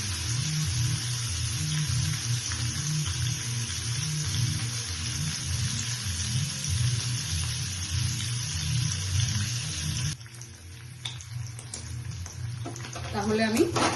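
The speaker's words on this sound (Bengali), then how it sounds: "সাদা তেল দিয়ে এইভাবে পনিরগুলোকে ভেজে নিচ্ছি" Paneer cubes fry in white oil with a steady, close sizzling hiss that thins out and turns sparser toward the end.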